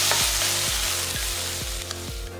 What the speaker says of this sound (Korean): 양파와 고추 넣고 달달 1분 정도 볶아서